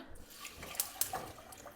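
Water poured into a pot of lentils for cooking, a brief splashing, trickling pour with a few sharper drips, close and fairly quiet, with no talking.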